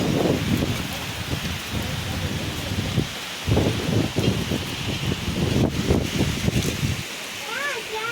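Steady rain hisses throughout on a farm, with muffled voices and low thumps underneath, closer bursts of sound coming and going.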